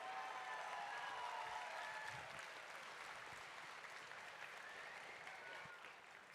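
An audience at an FTC robotics world championship division applauds the alliances, a dense sustained clapping that fills the hall and slowly tapers off.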